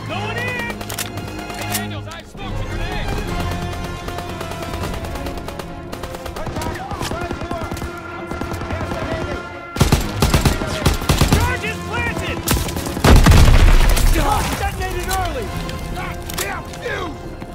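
Machine gun fire in the Call of Duty WWII battle mission, rapid bursts mixed with explosions and dense battle noise, with shouted voices over the din and a louder crash near the end.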